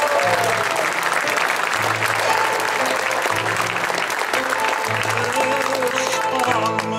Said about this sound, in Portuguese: com carinho e com encanto para dar palmas ao Pai João e ao Divino Espírito.